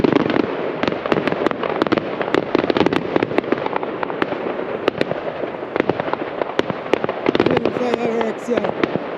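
Fireworks crack and pop in a steady barrage of sharp bursts across a Bonfire Night display in Derby, UK, with people talking nearby throughout.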